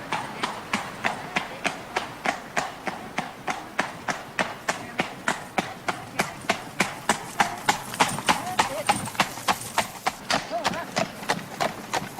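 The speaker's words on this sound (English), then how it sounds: "The coach itself is a ton weight, only 4 horses pulling it" Steady, rhythmic clip-clop of four horses' hooves trotting on a hard road, evenly spaced and close, as the team pulls a one-ton coach along.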